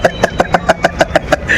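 Someone yanks the rope on a pull-start engine, producing a quick run of about ten evenly spaced, loud chugging pulses that blur into a brief steady drone at the end.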